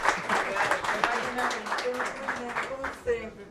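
Applause in a municipal council chamber during a session of the Bertioga city council, a short burst of clapping from the audience heard under a speaking voice.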